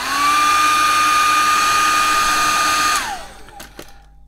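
Heat gun blowing hot air to soften the glue on a Palm V PDA, giving a loud, steady whirring hiss up close that winds down after about three seconds, followed by a few faint clicks.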